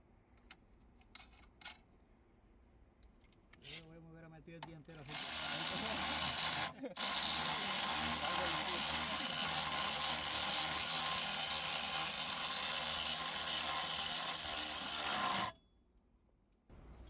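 A 10mm nut being tightened on a Cadillac XT6 battery hold-down, a steady raspy whirring burst of about ten seconds after a few faint clicks and scrapes, close up.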